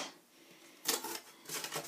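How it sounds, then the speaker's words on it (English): Scissors cut the tape cords holding the packing together inside a Hamilton Beach 6 qt Set and Forget probe slow cooker box, giving two faint, quick crisp snips over a quiet room. "I'm just going to take my scissors and cut that"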